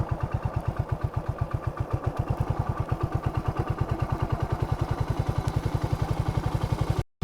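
A motorcycle engine runs steadily in gear as the clutch is eased out, giving a rapid, even low thump close to the mic that continues without a break and cuts off at the end.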